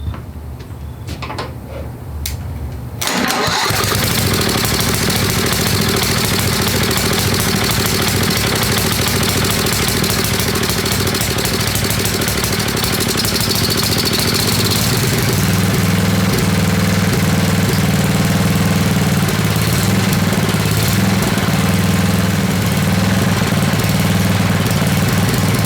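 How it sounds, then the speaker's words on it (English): Tecumseh 10hp engine on an old Craftsman riding lawnmower with water damage starts after a few seconds of handling noise, then runs loud and steady before settling into a rougher, lower idle. "If we get a little heat into the motor, it would be good."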